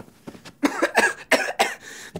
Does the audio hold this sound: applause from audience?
no